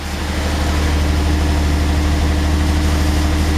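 A Fiat 130's 3.2-litre V6 engine idles close by with a deep, steady rumble that holds constant throughout, no voices.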